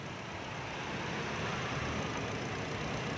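A 2022 Honda Brio RS automatic idles quietly and smoothly, a steady low hum with a soft, even hiss and no other sounds.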